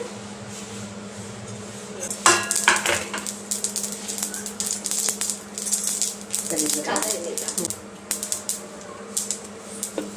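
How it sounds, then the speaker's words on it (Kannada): Mustard seeds pop and crackle in hot oil for a chutney tempering, with irregular bursts of sharp spluttering, close by, and a voice talking over them. "ಸಾಸಿವೆ ಸಿಡಿತಾ ಇದೆ"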